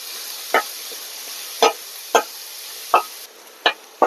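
Onions with salt frying in a pan give a steady, close sizzle, with several brief scraping stirs at uneven intervals over it.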